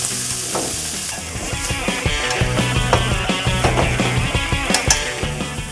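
Vegetables stir-fried with soy sauce and shrimp fat sizzle steadily while a utensil scrapes and clacks rhythmically against the pan, close and clear.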